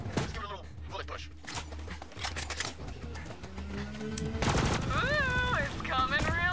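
Gunfire in Borderlands 3 rattles off in rapid bursts and single shots, mixed with game effects and a voice talking over the action.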